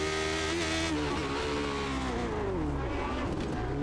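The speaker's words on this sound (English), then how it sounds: "You can see those brakes locking a little bit as he tries to get down into the corner." Race car in iRacing's Lotus 79 series at the Detroit street circuit, engine loud and sustained with a falling pitch as it brakes hard into a corner, tyres locking up under the engine note.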